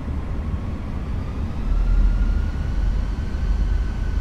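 Simulated Airbus A320 jet engines spooling up toward takeoff thrust in a flight simulator game, a steady broadband roar that swells in the low end about halfway through, with a faint tonal whine above, no talking.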